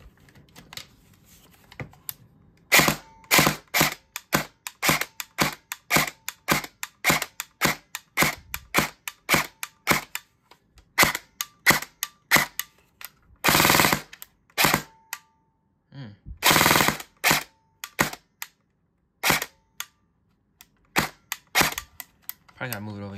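An airsoft Colt M4 CQB-R test-fires in close, sharp single shots and rapid bursts, the snapping reports spaced irregularly with short pauses between strings.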